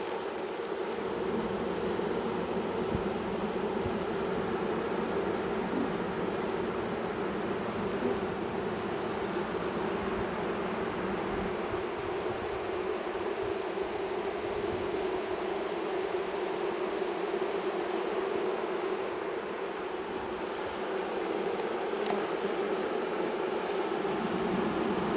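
A honey bee swarm buzzes in a dense, continuous drone, steady and loud throughout with no voices over it.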